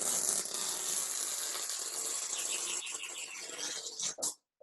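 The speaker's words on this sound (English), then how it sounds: "So now I'm pulling off the tape" Masking tape peeled steadily off a finished painting, a continuous close crackling tear that holds for about four seconds before stopping abruptly.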